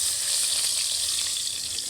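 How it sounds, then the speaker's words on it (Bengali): Rui fish pieces sizzling and frying in hot oil, a steady, loud hiss of bubbling fat throughout with no talk over it. "মাছটা তেলে ঢেলে দিচ্ছি"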